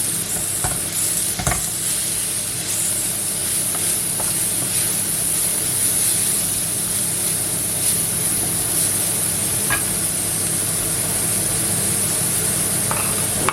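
Shrimp and Chinese noodles in soy sauce sizzle loudly in a pan while being stirred, a dense, steady hiss broken by occasional scraping clicks. The sound is close and continuous throughout. No one speaks.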